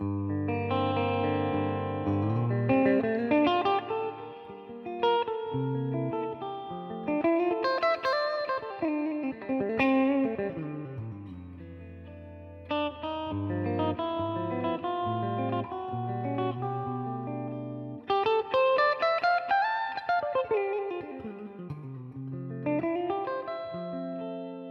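A Relish Jane electric guitar with neck and bridge pickups both on and everything on full plays melodic runs and chords with a full, bright tone, sustained notes ringing out without any talking.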